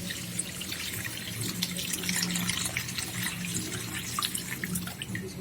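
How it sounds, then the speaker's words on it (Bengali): Water poured into frying duck meat curry to make the broth, a steady rushing splash with light sizzling that runs unbroken for several seconds, close and moderately loud with no talking. "এখন ঝোলটা দিয়ে দিচ্ছি।"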